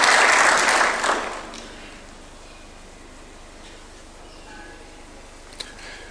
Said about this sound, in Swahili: Tumpigie makofi tafadhali akija.